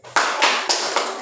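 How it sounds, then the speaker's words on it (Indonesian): A classroom gives group 5 a rhythmic 'tepuk hebat' cheer, a patterned clap in which about five sharp bursts land in quick, regular succession at close range. "mari kita berikan tepuk hebat kepada kelompok 5"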